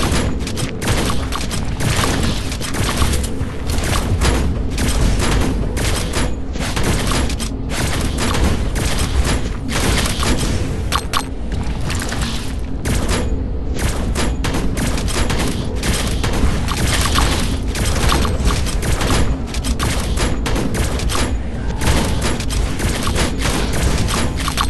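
Rapid, dense gunfire rattles nonstop through a mobile shooter battle in Age of Kita, with bursts and booms layered into a loud, continuous barrage and no voices.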